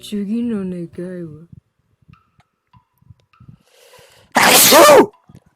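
A man sneezes once, loud and close, a sharp burst that comes after a stretch of talk and a near-silent pause.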